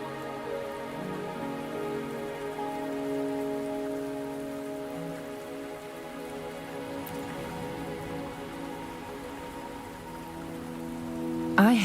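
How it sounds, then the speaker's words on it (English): Steady rain falls in the video game Wuthering Waves, a continuous even patter heard under layered tonal game music, with a brief louder flourish at the end. "Are you trapped here by the rain?"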